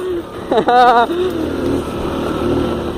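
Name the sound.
motorcycle engine revving while doing a donut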